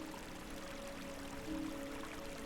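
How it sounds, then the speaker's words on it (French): Warm summer rain falling in a soft, steady hiss with a faint pouring, trickling texture, quiet and continuous. "vos sens lavés par cette pluie d'été tiède après cette chaude journée"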